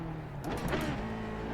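Engine revs blipping on downshifts in a sim racing game on the Nürburgring, a quick rising rev flare over a steady engine drone.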